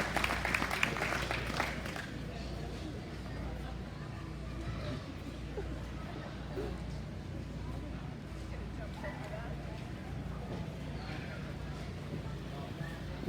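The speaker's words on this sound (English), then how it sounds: "let's give him another big round of applause" The crowd at the 2018 Arizona National livestock show's Sale of Champions applauds an award recipient in the show ring. The applause is distant and faint, rising a little at first and then continuing as a steady, low patter with background murmur.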